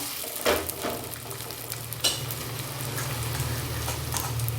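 A ragi adai flatbread sizzles in a pan, starting with a couple of clattering knocks before a steady, even frying hiss settles in nearby, with no one speaking.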